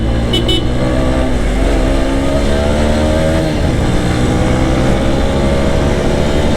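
A TVS Apache 4V motorcycle riding along a dusty road after 25,000 of use, its engine a steady continuous drone close by, with wind rush and no speech.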